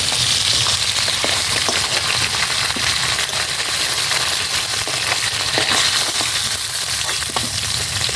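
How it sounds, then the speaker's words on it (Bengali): Fish pieces frying in hot oil, a loud continuous sizzle with scattered crackles and pops throughout, no voices over it. "মাছগুলোকে আমি এপিট ওপিট করে ভেজে নিয়েছি"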